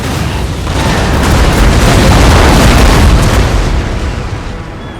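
Ships' cannons in Napoleon: Total War unleash a loud, rolling broadside, booming blasts merging into a dense roar that swells and then slowly fades.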